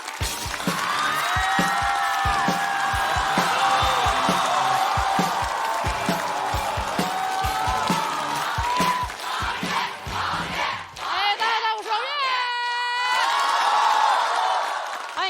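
A studio audience at a stand-up comedy show roars with cheering, whooping and clapping to welcome a comedian onstage, loud and continuous, with a voice and music-like tones rising near the end.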